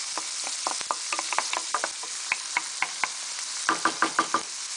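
Onion pieces fry in a pan with a soft continuous sizzle, punctuated by a series of sharp knocks and taps of a spoon against the pan as they are broken up and stirred.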